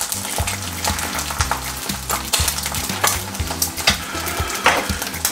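An egg fries in a pan with a steady close sizzle and crackle, the spatula tapping and scraping now and then.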